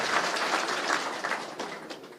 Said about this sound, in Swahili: Pigeni makofi ya IG.